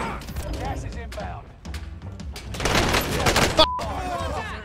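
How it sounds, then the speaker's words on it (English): Gunfire in the Rebirth Island battle royale video game, bursts of rapid automatic shots and booms, loudest in a dense stretch near the end, with people talking over it. "Watch out, somebody else shooting."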